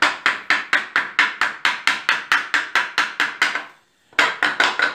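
Screw being driven into a wooden joint with a power tool, a rapid, even series of sharp ratcheting bursts that pause briefly and then resume, close and loud.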